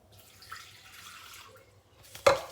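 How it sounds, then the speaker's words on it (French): Water poured into a bowl for Turkish pide dough, a soft trickle for a couple of seconds followed by a brief louder splash near the end. "Donc on va verser notre eau."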